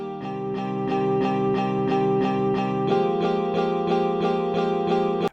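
Virtual guitar from the Nexus plugin in FL Studio strums chords in a steady, repeated rhythm for an indie stadium-rock beat, shifting to a new chord partway through, alone with no voices and ending abruptly.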